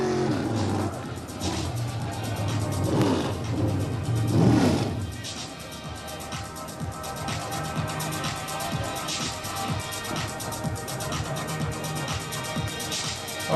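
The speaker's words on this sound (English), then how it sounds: "tonight's winner, Aaron Turkey, doing donuts up in corner 4" A 602 crate sprint car does donuts in corner 4 of a race track, its engine roaring and revving loudly for the first few seconds before settling into a steadier drone with crowd and PA noise behind.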